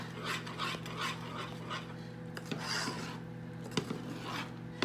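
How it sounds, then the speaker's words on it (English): Rapid scraping and rubbing of a utensil stirring boiling cake batter fudge in a pan, continuous and close, with occasional sharper knocks against the pan over a low hum. "And so it is really boiling now. So just going to keep rapidly stirring."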